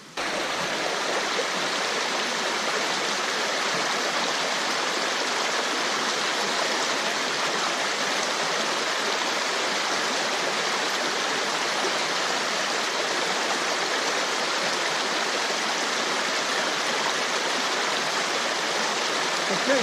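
Water flows in a stream in a river valley, a steady close rushing and gurgling wash that holds constant with no voices.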